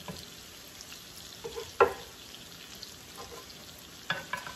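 Shrimp sizzle quietly in a hot pan as they are stirred, with a soft steady fry and a couple of sharper scraping stirs of the utensil against the pan.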